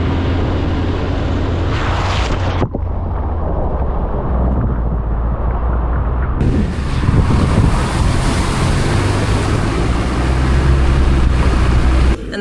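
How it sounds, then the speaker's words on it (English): A truck drives through a huge puddle on an Australian camping trip, throwing up a loud, sustained rush of splashing water with heavy wind noise on the microphone. "there's a huge puddle up ahead, so I'm gonna go run through it really quick."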